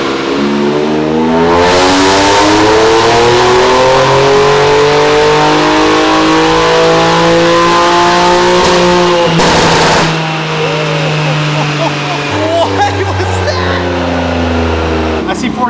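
A Nissan Z engine revs hard in 4th gear during a dyno power run after an ECU calibration. It climbs in a long, loud, rising wail, then drops off and settles into a lower drone, with talk heard in the background.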